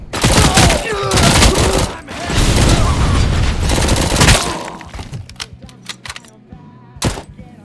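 Rapid bursts of gunfire in the RoboCop: Rogue City video game, loud and dense for about four seconds, then thinning into scattered shots and mechanical clatter, with a single sharp shot near the end.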